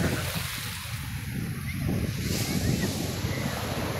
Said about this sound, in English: Wow, it's nice to be at the beach.